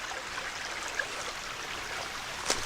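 Small stream cascading beside a forest trail on the Golden Eagle Trail in Pennsylvania, a steady, soft rushing trickle heard up close, with one brief tap near the end.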